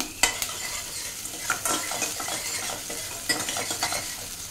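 Chopped garlic and green chillies are stirred in hot oil in a pan for baby corn Manchurian. A soft sizzle runs under a few sharp scrapes and clinks of a spoon against the pan, close up, with no voices.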